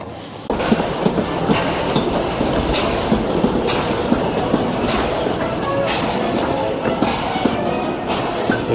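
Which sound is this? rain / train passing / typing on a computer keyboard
train passing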